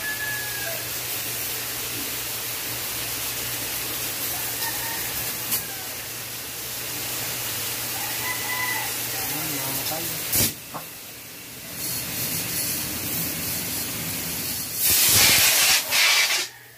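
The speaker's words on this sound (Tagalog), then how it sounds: "Bubuga ako, ha?" Water sprays steadily onto UV plastic greenhouse roofing, a continuous hiss with brief interruptions and a louder burst near the end, while people talk now and then.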